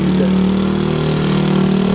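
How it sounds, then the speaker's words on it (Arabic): A motorbike engine runs steadily at idle in Tazmalt, a loud, continuous low hum with a constant tone and no words spoken over it. "هنا الموتور"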